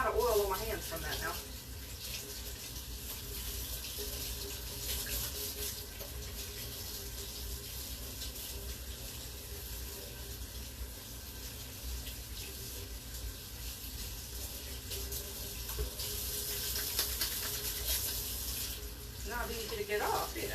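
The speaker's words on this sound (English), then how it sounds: "Let me wash this off my hands." Tap water runs steadily into a sink while hands are washed, a continuous close splashing rush with slight shifts in flow, lasting the whole stretch.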